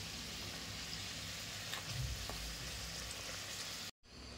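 Vadas deep-frying in a small kadhai, a steady close sizzle and crackle of hot oil that runs evenly, then cuts out abruptly near the end.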